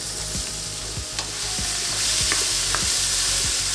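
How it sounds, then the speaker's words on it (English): Onions sauté in a pan, a loud continuous sizzle with regular scraping strokes of a spoon stirring, close and unbroken by speech. "we're gonna saute the onion a little bit"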